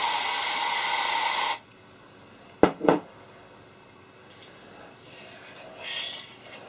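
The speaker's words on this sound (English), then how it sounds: "Don't be worried about using too much spray." A steady aerosol spray hisses loudly for about a second and a half during silicone mould-making, then stops, followed by a couple of brief clicks and quiet room noise.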